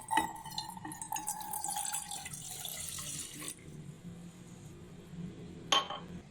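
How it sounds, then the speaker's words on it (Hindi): A full glass of water is poured into a pan sitting on a stove, a faint trickling splash for a few seconds followed by quieter drips and a brief clink. "इसी पैन में मैंने ये ग्लास फुल भर के इसमें पानी ऐड करना है"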